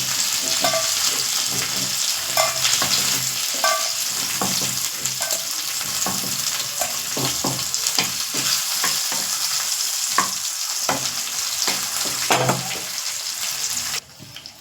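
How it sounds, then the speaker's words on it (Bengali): Fish pieces sizzle and crackle loudly in hot oil in a home kitchen pan, a dense continuous frying hiss with occasional stirring and scraping clicks throughout. "মাছ ভাজা চাপিয়ে দিয়েছি"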